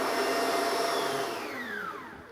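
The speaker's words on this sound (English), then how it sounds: "whisk 250 ml of whipping cream with 50 grams of vanilla sugar until the cream thickens" An electric whisk whips 250 ml of whipping cream with 50 grams of vanilla sugar, humming in a steady, fairly quiet whir whose pitch slowly sinks as it winds down.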